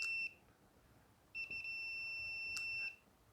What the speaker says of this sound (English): Got continuity, hear it beeping.